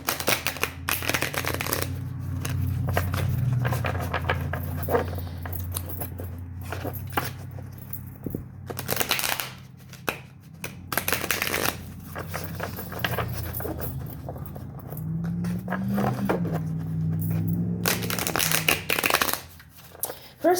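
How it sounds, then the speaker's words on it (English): Tarot cards are shuffled repeatedly close by, a steady papery riffling and flicking that goes on without pause, with low background noise underneath. "while I'm shuffling these cards"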